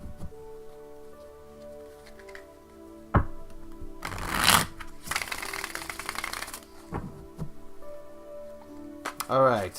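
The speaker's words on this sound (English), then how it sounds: "just give me a moment to shuffle the cards" Rapid riffling bursts of tarot cards being shuffled nearby, two long flurries with softer taps and handling sounds around them.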